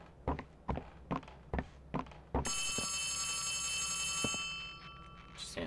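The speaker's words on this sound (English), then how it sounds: "Just answer the phone." A telephone rings in Poppy Playtime Chapter 3 with a sustained, bright electronic bell tone lasting a few seconds, preceded by a series of heavy, evenly spaced footsteps or thuds.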